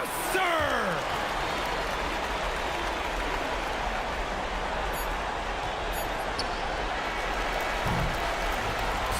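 Home crowd in an eBasketball video game: a broad, continuous roar of cheering and applause, steady and dense across the whole stretch, with a brief voice near the start.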